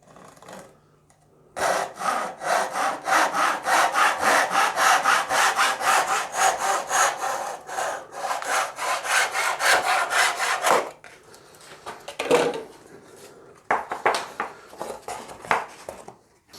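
A hand saw cuts off excess wood from a scratch-built guitar part, giving a steady run of loud, close back-and-forth rasping strokes for about nine seconds, then a pause and a few shorter strokes and scraping handling sounds.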